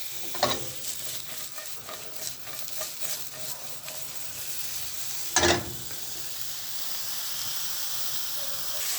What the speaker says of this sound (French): voilà mes champignons qui ont été mis dans la poêle et qui sont en train de commencer à suer un petit peu